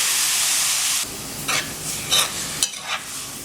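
Chopped onions, peppers, pimento and minced beef hit hot oil in a pan, starting with a loud rushing hiss that suddenly drops, then quieter sizzling with several bursts of spoon scraping and stirring close by.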